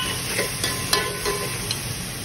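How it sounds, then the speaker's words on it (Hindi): Masala-coated chicken frying in a pan for a desi-style curry: a steady close sizzle and hiss, with occasional scraping stirs and soft taps of a spoon against the pan. "देखिए गाइस, हमारा चिकन अच्छे से फ्राई हो रहा है एकदम"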